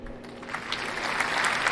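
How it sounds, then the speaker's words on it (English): Brief burst of applause cued during a desktop software demonstration, a short scattered clapping that swells slightly, moderately loud and alone without talk. "Cue the applause."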